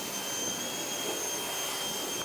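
A Ryobi 2000 PSI 1.2 GPM electric pressure washer runs with a steady, loud, slightly whiny drone and a high tonal whine, holding continuous and unbroken throughout with no talking.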